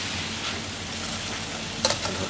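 Pickled bamboo shoots tipped into a pot of boiling curry soup give a constant bubbling, sizzling wash. A short sharp splash and clink comes near the end, close up.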